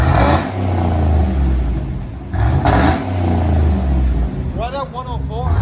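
A Chevy 6.2L V8 with an aftermarket exhaust and resonator rumbles at idle and then revs in a couple of deep, loud bursts close by, with someone talking over it.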